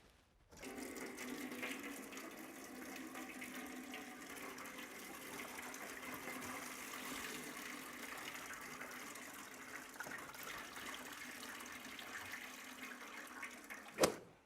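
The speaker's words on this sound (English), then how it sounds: "Now that we've got all the old stuff mixed up with the water, we can drain that out too." Old coolant mixed with water drains steadily out of a car radiator during a coolant flush, a continuous faint gushing trickle that runs for over ten seconds and ends with a brief knock.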